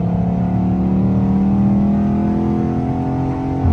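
Car engine revving steadily in first gear with paddle shifters, a continuous loud droning hum that climbs slowly in pitch and holds without a break, no voices.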